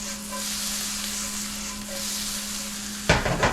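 Noodles fry in butter in a pan with a steady soft sizzle and a low hum, then a short clattering toss near the end.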